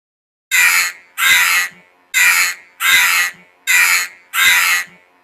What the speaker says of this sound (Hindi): अचानक कोए के मन में कुछ विचार आए, इसलिए वो जोर से चिल्लाने लगे